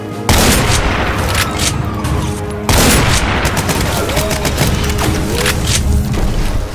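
Dense, loud gunfire from Doom with the Project Brutality mod: rapid overlapping shots and booming thumps roll on almost without a break, briefly cut off and then resuming just as heavily.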